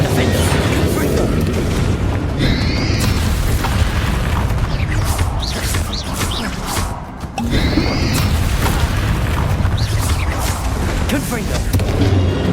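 Repeated spell blasts and booms from dueling in Hogwarts Legacy, loud and continuous with crackling bursts, swooshes and rumbling impacts layered over shouted incantations, with one short lull midway.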